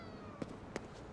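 A faint cat in GhostWire: Tokyo makes soft, brief meowing sounds, with two quick chirps over quiet game ambience.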